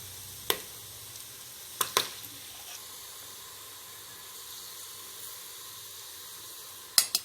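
Whole cardamom, cinnamon and cloves in hot oil for a Kerala-style Thalappakkatti chicken biryani, a soft, steady hiss broken by a few sharp crackles and pops, with no talking.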